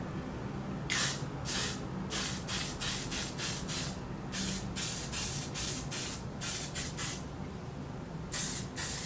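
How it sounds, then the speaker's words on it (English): Oribe Superfine Strong hairspray misted onto hair in a series of short, close hissing spray bursts, some quick and clustered, with brief pauses between. "Now I am going to hairspray. I'm using the Oribe Superfine Strong Hairspray."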